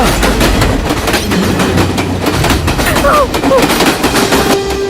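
A train approaches in a Tamil feature film scene, a loud, dense rumble with a rapid rattling clatter that fills the whole stretch, a faint tonal whistle surfacing near the end.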